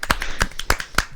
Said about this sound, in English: Round of applause. There we go.